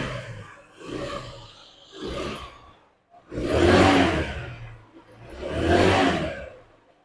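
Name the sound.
motorcycle engine revving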